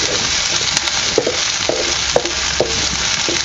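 Garlic and green chillies fry in a pan for methi bhaji with a loud, dense sizzle, while a spoon scrapes and taps at a steady rhythm of roughly twice a second.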